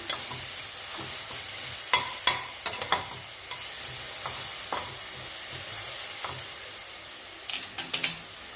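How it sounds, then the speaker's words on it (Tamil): Peas, cabbage and carrot sauté in oil in a pan, a soft continuous sizzle broken by a few sharp scraping clinks of a spoon stirring against the metal. "ஏன்னா இந்த பட்டாணி வந்து கொஞ்சம் நேரம் வதங்கணும்."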